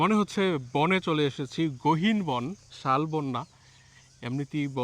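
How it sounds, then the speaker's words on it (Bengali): Crickets chirp as a faint, steady high drone in a forest beside a highway in Gazipur, heard under someone talking almost throughout. "ঝিঝি ডাকছে"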